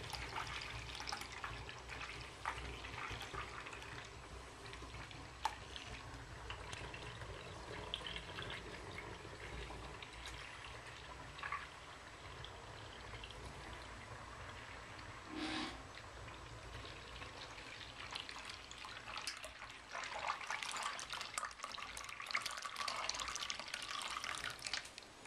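Water pours into a homebrew carboy, a quiet continuous trickling and splashing that runs throughout and grows a bit fuller near the end.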